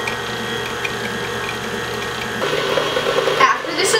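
An electric stand mixer churns soft chocolate chip cookie dough, giving a steady mechanical whir and grinding hum that grows slightly louder and busier toward the end.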